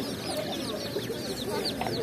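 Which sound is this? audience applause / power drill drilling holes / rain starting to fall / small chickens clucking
small chickens clucking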